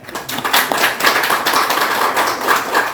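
A church congregation clapping during a pastor's sermon, a dense burst of many hands applauding steadily and close for the whole stretch, with no talking.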